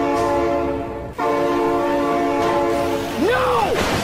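Train horn and passing train in a toy-style scene with Thomas the Tank Engine, a loud sustained tonal horn over rumbling rail noise, then a short dip and a voice cry near the end.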